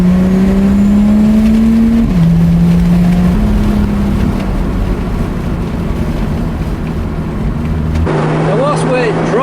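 Lotus Exige S engine droning steadily while driving on a winter warm-up, a loud continuous hum that shifts pitch with gear changes, and a voice talks over it near the end.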